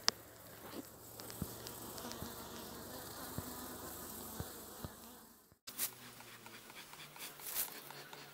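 A honeybee (Apis) swarm buzzes steadily at hive boxes after smoke has been applied: a continuous, quiet, close drone with scattered individual bees passing, briefly cut off partway through before resuming.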